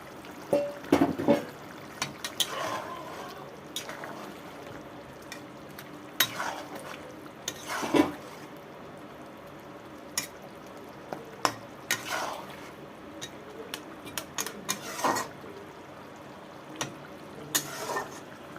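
Rohu fish pieces go into a taro curry cooking in a pan, heard as intermittent clinks and scrapes of a spoon against the pan over a quiet simmer, close by with no talk.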